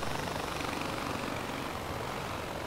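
Helicopter in Far Cry 4 flying on a windy island, a steady broadband rotor-and-engine roar that holds loud and unbroken throughout, with no voices.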